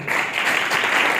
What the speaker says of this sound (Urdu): آپ سب سے پہلے ان لیڈرز کے لیے تالیاں بجائیں